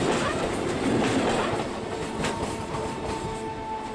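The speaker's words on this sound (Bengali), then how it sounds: "চোখের নিমেষে দানবীয় হুঙ্কার দিতে দিতে ট্রেনটা পিষে ফেললো রোহিতের শরীরটাকে" A local train rushes past with a loud, continuous rumble and rattling clickety-clack of wheels on rails, filling the whole stretch close by.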